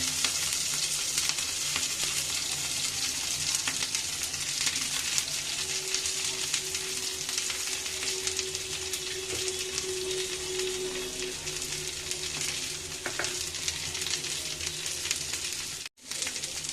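Beans, carrots, capsicum and cabbage stir-frying in a pan as filling for veg spring rolls, with a steady close sizzle and occasional stirring scrapes, no talking, ending with a brief dropout near the end.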